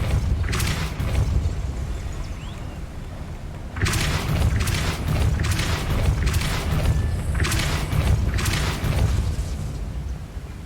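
A Depulso spell is cast in Hogwarts Legacy, bringing a series of heavy booming bursts and thuds in two clusters, loud and rumbling with a low roar beneath, with no voices over them.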